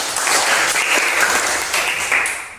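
Applause from pupils in a classroom, a dense patter of many small hands clapping steadily and fairly close throughout, with no talking over it.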